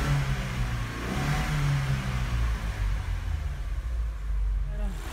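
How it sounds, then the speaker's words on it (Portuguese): A GM Agile 1.4 car engine runs steadily at close range, a low rumbling idle with slight revving fluctuations throughout. "Carro funcionando"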